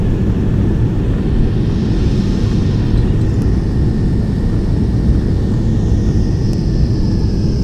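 United Boeing 727-200 jet engines at takeoff thrust in an FSX flight simulator departing San Francisco, a loud steady roar with a faint rising whine, continuous and unbroken throughout.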